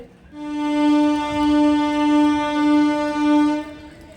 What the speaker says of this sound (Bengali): ট্রেনটাও ছেড়ে দিল বন্ধুরা